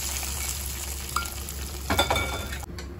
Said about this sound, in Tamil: நிறுத்திட்டு கருவேப்பிலை போட்டுட்டேன். போட்டு பொங்கலில் ஊற்றிட்டேன்.